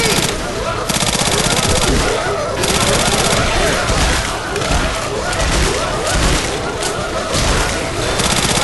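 In a video game, dense machine gun fire rattles on in loud sustained bursts with booming impacts, while voices talk over the gunfire.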